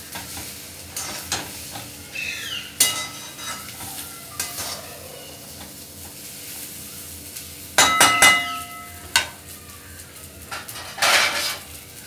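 Eggplant sautéing in oil in a pan for an Indian dish: steady sizzling and frying with scraping stirs and occasional clinks of a utensil against the pan, no talking.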